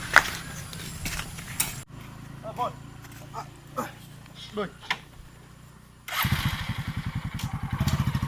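A motorcycle engine sputters to life and idles with a rapid, throbbing putter, after a stretch of scattered voices and light background noise.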